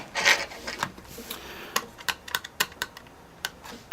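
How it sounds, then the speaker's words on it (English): Screws are undone while a Vaio laptop is being taken apart, heard as a quick series of small, close clicks and light scrapes with brief rubbing between them. "Here's where I go crazy unscrewing things."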